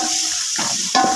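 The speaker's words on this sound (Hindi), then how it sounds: "ये फ्राई हो रहा है घी में" Steady sizzle of something frying in ghee in a pan while making kadhi pakora, with a brief louder clatter near the end.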